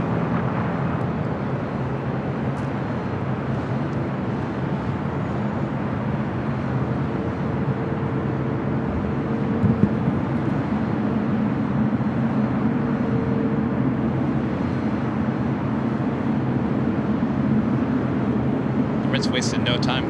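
A plane lands on runway 25 left at LAX, heard as a steady broadband roar that holds at constant loudness throughout, with tower radio chatter running over it.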